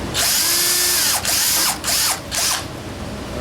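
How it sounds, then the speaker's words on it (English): A power drill whines close by in several short bursts, its pitch sliding as the motor speeds up and slows between pulls of the trigger. "Won't drill my hand there."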